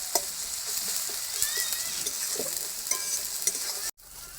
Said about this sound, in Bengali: একটু নেড়ে নেবো খুন্তিতে ভালো করে টমেটোগুলো গলিয়ে দেবো